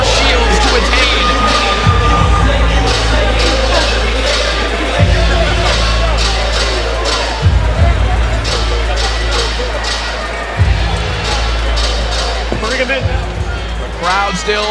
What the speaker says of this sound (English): The crowd still in an absolute frenzy here